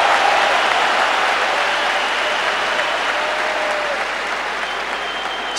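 A large hockey arena crowd at Minsk-Arena, at a Dinamo Minsk versus Torpedo game, roars and claps steadily, a dense wash of cheering that fades slightly over several seconds, with no distinct chant rhythm standing out.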